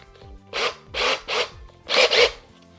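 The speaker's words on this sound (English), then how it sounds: "I'm gonna have to countersink it in order to be able to screw the ring on that" A hole is countersunk by hand in a mount ring part, giving five short gritty rasping twists in an uneven rhythm, close and clear.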